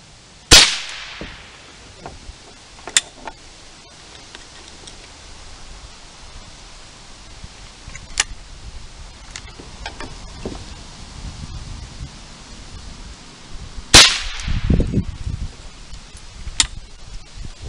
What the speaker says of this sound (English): I've been putting them in here, and as I fire it, I'm getting a lot of dry fire.